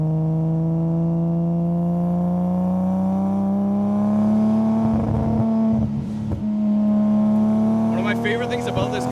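An 800-horsepower Nissan Skyline R32 GTR turbo engine drones with a strong, steady tone that climbs slowly in pitch. Rougher rasping bursts break in near the end, heard close and loud.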